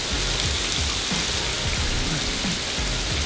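Artificial rain in an indoor Rain Room installation pours as a dense, continuous close-up hiss of droplets striking the floor, loud and unbroken, with no voices.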